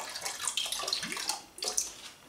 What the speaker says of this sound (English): we take our distilled malt vinegar, did it again, and we just pour some in